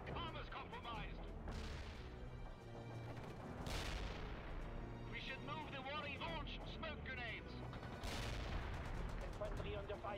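Gunfire and artillery rattle and boom across a World in Conflict battlefield, with repeated bursts of shots and heavy blasts over a constant rumble. Radio-style unit voices speak throughout.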